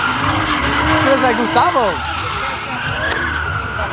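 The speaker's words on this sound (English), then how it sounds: "we're about to go see some drifting, guys. They're going crazy over here." Cars drifting at a car meet, GTRs and a Supra among them, with tires squealing in sweeping wails over a loud engine rumble while people talk nearby.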